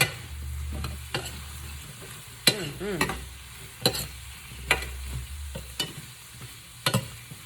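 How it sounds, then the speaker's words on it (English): Onions sautéing in a pan for a veggie stir fry, a soft sizzle broken by repeated sharp scraping and stirring clatters in an irregular rhythm, close by and without talk. "And let this get that nice little sauteed coating on these wonderful onions."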